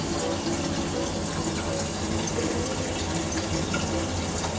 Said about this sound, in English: the blue button is for washing your butt crack